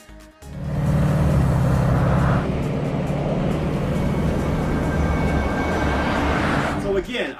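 A person imitates a Bugatti Chiron with their mouth, a loud droning engine roar that builds and holds for several seconds, then drops and trails off, close to the mic.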